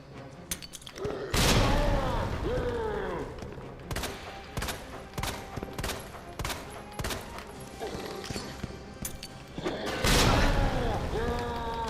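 Grenade blasts in the Resident Evil 2 remake video game, two loud booming explosions bracketing a string of sharp, spaced shots and impacts, with game noises in between.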